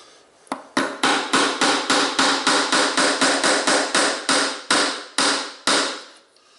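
Steady hammer blows driving a finishing nail into PVC, about twenty sharp metallic strikes in a quick even rhythm, close and loud with nothing else audible.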